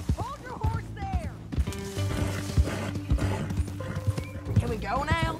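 Horse in Red Dead Redemption 2 with clopping hooves, snorts and whinny-like calls, mixed with mechanical clicks and game sounds at moderate loudness.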